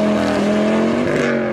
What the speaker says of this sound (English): These five cylinders sound insane.